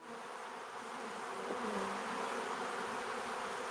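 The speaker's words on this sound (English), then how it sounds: "It means the bees are back." A swarm of bees buzzes in a dense, continuous drone that holds steady and fills the whole stretch, with no voices over it.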